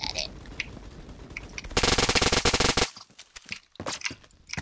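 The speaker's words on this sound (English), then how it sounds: "I'm so picking up this machine gun" Machine gun fire in Roblox Phantom Forces, a loud, dense rapid burst of over a second with a few scattered single shots before and after, with light background game noise.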